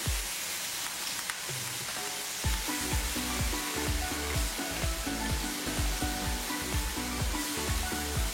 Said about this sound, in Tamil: கடாயில் எண்ணெய் சூடா இருக்கு. சிக்கன் ஃப்ரை பண்ணி பார்த்து கேர்ஃபுல்லாக பண்ணிக்கோங்க.